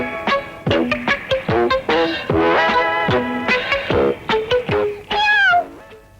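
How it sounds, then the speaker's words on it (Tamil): A cat meows repeatedly, a quick series of clear, close mewing calls with short gaps between them, ending in a longer, higher wavering meow, in a domestic film scene with no talk over it. "பூனை சத்தம் இங்கதான் எங்கேயோ கேக்குது"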